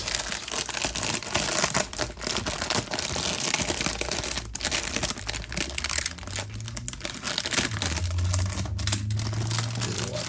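Plastic packaging is peeled and crinkled off a 1/43 scale diecast 1980 GMC General truck and trailer, close up, with irregular crackling, rustling and tearing bursts throughout and no talking.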